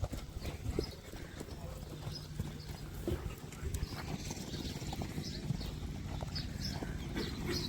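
Hooves of a Sindhi horse clip-clopping in a steady rapid rhythm during a 20 or 40 kilometre endurance race in Kutch, fairly close, with voices talking over the hoofbeats.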